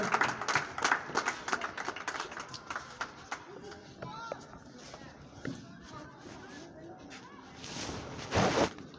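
A burst of clapping at the start, then a voice speaks over background chatter at a local cricket league man of the match ceremony, with another brief round of applause near the end.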